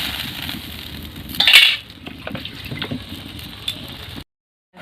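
Water pours into a pan of potatoes with a clattering splash, followed by softer bubbling and light clinks of utensils before a sudden cutoff.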